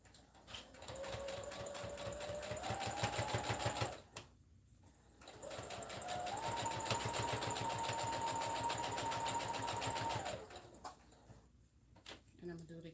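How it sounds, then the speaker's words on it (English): A domestic sewing machine stitches fabric in two bursts of rapid, even needle clatter, the second longer, with a short quiet pause between them as the piece is pivoted; fairly close and moderately loud. "I stitch all the way down to the other end"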